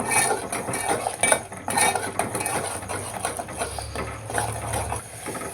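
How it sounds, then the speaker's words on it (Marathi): A spoon scrapes and clinks against a pan as garam masala is stirred into a fish curry base. Irregular clatter sits over a faint sizzle, with no voices. "गरम मसाला टाकूया एक चम्मच हे सगळं मिक्स करून घेऊया"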